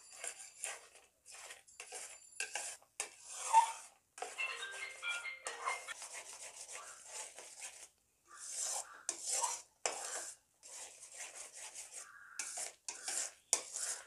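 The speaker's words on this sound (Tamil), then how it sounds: "இன்னும் கொஞ்சம் நேரம் நல்லா கிளறி விட்டுக்கினே இருக்கலாம், சுண்டி வரட்டும்." Milk in a pan on low heat is stirred for homemade milk powder, with a spoon scraping and rubbing the pan in bursts and short pauses, close but quiet.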